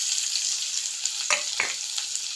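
Onions and dried red chillies frying in a hot oil tempering with chana dal and cumin for a moong dal spinach fry, a steady bright sizzle with a few sharper crackles and stirring scrapes.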